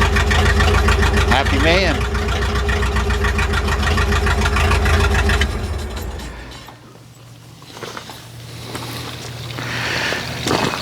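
Ford F600 truck engine running steadily at idle with a deep, even rumble, then it drops away and a lighter idle continues; someone speaks briefly over it.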